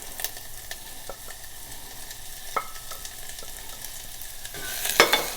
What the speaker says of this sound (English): So we're going to saute those a little.